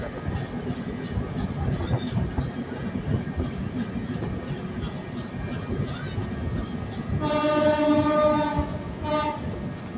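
Shatabdi Express train 12025 runs between Pune and Secunderabad, heard from inside as a steady rumbling roar with rattling, and a distant horn sounds in a long note near the end.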